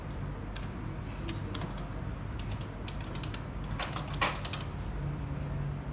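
Quiet, irregular clicking of a computer keyboard being typed on, in short bursts of keystrokes over a low background hum, with a few sharper taps near the end.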